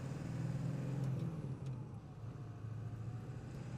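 A 1999 Ford F-550 XLT dump truck with a six-speed gearbox drives along with a steady low engine rumble and road noise. A brief dip in the middle suggests a gear change. Nobody talks.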